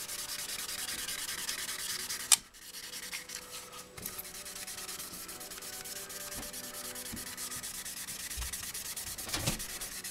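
Hand sanding of small painted parts from a Honda NS250R motorcycle, a steady, soft rubbing rasp that runs throughout, with a brief sharp knock early on.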